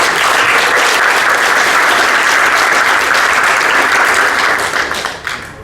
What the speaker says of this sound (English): thank you so much. Hands of applause